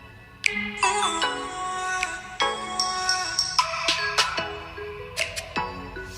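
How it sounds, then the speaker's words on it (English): Outro music played back from a phone or speaker: a bright, chiming synth melody with bell-like, ringtone-style notes running steadily for about six seconds with no talking. "Let me play my outro for Miss Lorraine."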